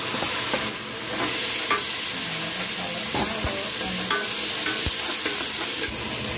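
Tomato, onion, ginger and garlic sautéing in a pan for a red beans dish, with steady sizzling frying and occasional scrapes and clicks of a spoon stirring, close and continuous with no talking.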